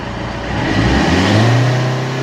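Car engine revving with the accelerator pressed fully, in a vehicle with a pickup problem tied to the barometric pressure sensor; a loud, close engine roar rising in pitch over about two seconds.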